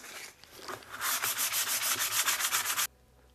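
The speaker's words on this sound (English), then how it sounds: "what I'm going to do now is just lightly sand them" Stained wooden glider rocker parts are lightly sanded by hand. About a dozen loud, close, steady abrasive strokes rasp back and forth in an even rhythm, then stop abruptly.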